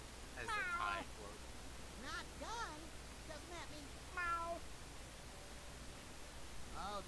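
A human voice imitates a cat with a series of drawn-out meows, several separate calls spread across the clip over a soft hiss of background noise, with brief talk in between.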